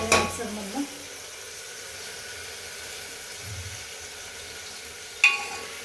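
Onion and tomato sautéing in a pan with turmeric for spinach rice: a faint, steady sizzle runs throughout, with a couple of soft clinks near the start and end.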